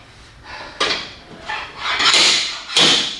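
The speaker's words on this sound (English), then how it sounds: "It's amazing how much work you can do with the sliding hammer." A sliding hammer pulls dents from a damaged Toyota 4Runner body, giving four or five sharp metallic clanks at irregular intervals, close and loud in a quiet workshop.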